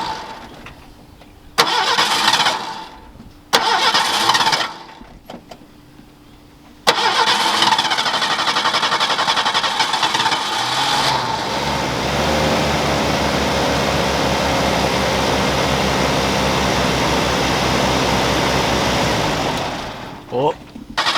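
Ford Mustang engine cranking through a few short starter bursts, then catching and settling into a steady, loud idle that runs on until it is shut off near the end.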